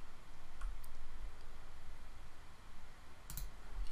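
A computer mouse clicks twice in a software tutorial, the clicks faint and short and spaced a few seconds apart over a low background hiss.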